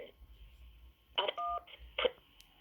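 One short, steady telephone keypad beep sounds between snatches of faint, thin speech over a phone line.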